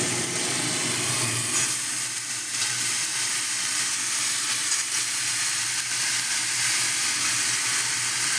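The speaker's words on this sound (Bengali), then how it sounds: "এবার আমি যে ডাটাগুলো কেটে দিয়ে রেখেছিলাম ডাটাগুলোর মধ্যে দিয়ে দেবো" Cut vegetable stalks sizzling in a hot pan, a steady broadband hiss of frying that continues evenly throughout with no talking.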